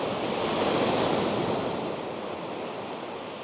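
Sea waves surge and break on the shore at Southwold, a loud, continuous wash of surf with a steady roar that eases slightly toward the end, with no voices.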